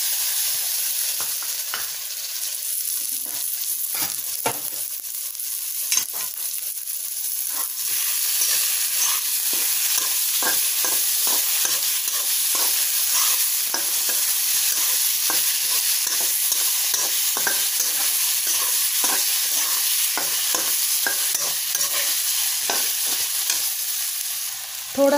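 Onion and tomato fry in a pan with a steady, close sizzle that runs the whole time, broken by frequent scraping stir strokes from a spoon.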